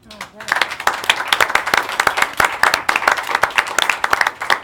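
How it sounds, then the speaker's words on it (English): An audience at a live tonight-show taping breaks into steady, close clapping that fills the whole stretch, with a voice speaking over it. "Round of applause, please."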